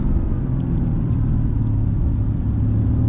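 Mercedes-Benz AMG GT engine on throttle, a deep, steady low rumble from inside the car with a smooth, continuous drone and no clear rise in pitch.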